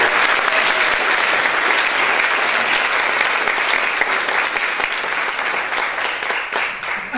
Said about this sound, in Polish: teraz należą się ogromne brawa